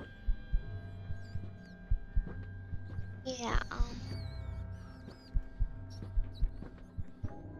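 Heartbeat in a Roblox horror game, The Mimic Chapter 1: a steady low thumping pulse under a constant hum, with a brief swooping sound midway and a short spoken word.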